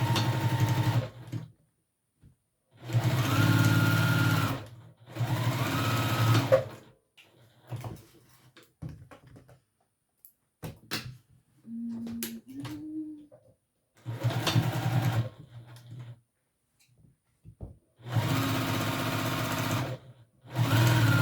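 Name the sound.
sewing machine stitching fabric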